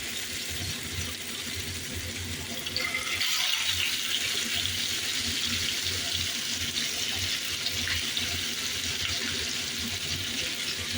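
Pieces of chicken frying in hot oil for a dry chicken fry, a steady broad sizzle and crackle that swells louder partway through and holds constant.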